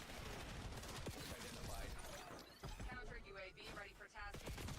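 Rapid bursts of gunfire and impacts from a Battlefield 6 versus Black Ops 7 shooter match, with rounds fired through a wall; dense, continuous shooting fills the whole stretch under a talking player.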